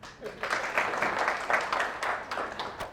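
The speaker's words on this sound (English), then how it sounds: "give him a clap" An audience at a lecture on artificial intelligence claps together for a few seconds, a dense, moderately loud burst of applause that fills the room.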